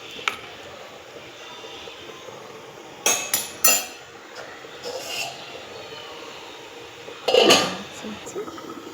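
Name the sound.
covering fish curry pot with lid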